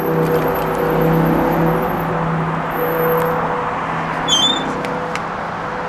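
Cars roll past on a Manhattan street, a steady engine whir and traffic rumble that swells and eases, with a few brief high squeaks over the top.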